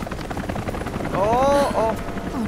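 Helicopter in the video game Rise of the Tomb Raider, a low rotor drone that swells loud midway under game music and effects with a brief sweeping whine.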